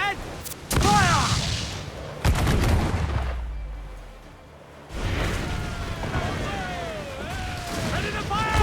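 Ship cannons firing during a naval battle in Assassin's Creed IV Black Flag, heavy booming blasts with rumbling tails, a couple of loud volleys separated by a quieter lull, with shouted orders in between.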